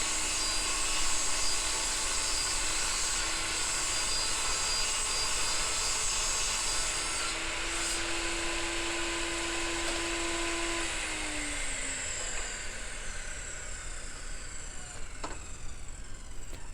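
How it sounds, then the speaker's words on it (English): Steady loud whine of a table saw ripping a pine board with the blade tilted to 45 degrees, a continuous roar with a rising cutting tone partway through, close by and without speech. "I set the blade at 45 degrees and ripped the 4 5/8 inch wide board in half."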